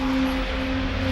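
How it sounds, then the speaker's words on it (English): A steady, loud drone from a FedEx cargo airliner heading for Memphis Airport, with a constant engine tone and no pauses or voices. "The airplane is heading for the safety of Memphis Airport"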